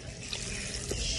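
Tap water runs steadily into a kitchen sink for dishwashing, a constant close splashing hiss with no talk.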